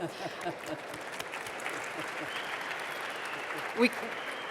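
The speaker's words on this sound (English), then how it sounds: "That deserves a round of applause" A conference audience at an opening ceremony gives a round of applause, a continuous wash of many hands clapping at moderate level, steady throughout with a brief sharper burst near the end.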